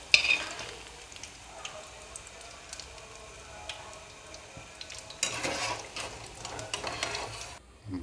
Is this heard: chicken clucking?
no